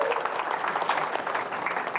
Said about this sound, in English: Give everybody a round of applause for Rhoda,